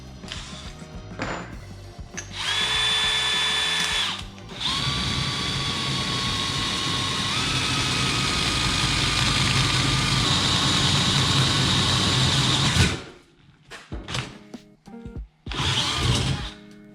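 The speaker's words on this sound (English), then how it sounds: "Wow, that's easier to drill." A power drill bores a hole through a welded metal piece, a loud steady whine with shifting pitch held for about ten seconds, stopping and starting around brief pauses.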